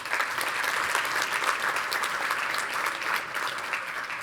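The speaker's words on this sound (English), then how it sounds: "let's give them a round of applause for being here" A large crowd at a Vaisakhi celebration at Wembley Stadium gives sustained applause for the Sikh Museum, an even wash of clapping heard from a distance throughout.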